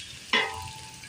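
Quail pulao ingredients hit hot oil in a pot with a sudden close sizzle burst that fades into a softer steady frying hiss.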